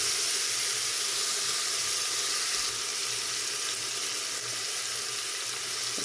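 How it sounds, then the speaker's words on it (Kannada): Finely chopped tomatoes fry lightly in a pan with curry leaves, a steady broadband sizzle holding level and close throughout with no pauses. "ಸಣ್ಣಗೆ ಹೆಚ್ಚಿರೋವಂಥ ಟೊಮೊಟೊ ಹಾಕಿ ಲೈಟಾಗಿ ಫ್ರೈ ಮಾಡಿ"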